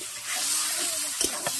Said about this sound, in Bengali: এবার মশলার সঙ্গে আলুটাকে ভালো করে কষিয়ে নেব